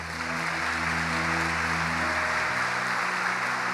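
A church congregation applauds during a worship service, sustained even clapping filling the room while a low organ or keyboard chord hums underneath.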